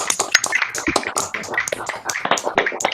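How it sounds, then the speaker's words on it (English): Applause from an online meetup audience after everyone unmutes, a dense patter of many overlapping hand claps through mixed laptop microphones, steady and fairly close throughout. "now is a chance for everybody to unmute at long last and applaud"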